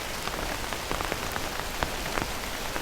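Light rain drums softly on a stretched umbrella canopy, a continuous close patter with occasional crisper drops standing out at irregular moments.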